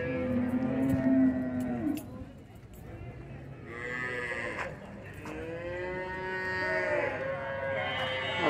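Cows at a traditional cattle fair in São Bento do Una, Pernambuco, give two long, loud moos close by, separated by a short pause, over a murmur of background noise.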